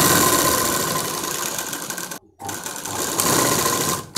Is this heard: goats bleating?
no